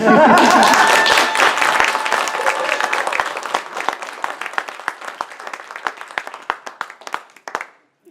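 Audience applause fills a conference session room, starting as a loud, dense burst of clapping that gradually thins and fades into scattered individual claps before stopping.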